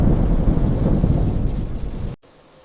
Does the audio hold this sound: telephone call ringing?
no